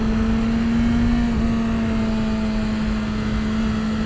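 A 2023 BMW S1000RR M Package motorcycle engine while riding: a steady, sustained droning tone with a faint wind rush and no speech.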